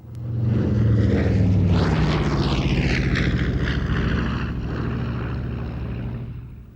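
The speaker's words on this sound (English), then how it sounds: "The biggest contribution from the fighter collection is the B-25 Mitchell medium bomber." A B-25 Mitchell medium bomber in RAF markings flies at the Mildenhall Air Fete air show, its piston engines giving a loud, continuous propeller roar that swells and shifts in pitch as it passes close by.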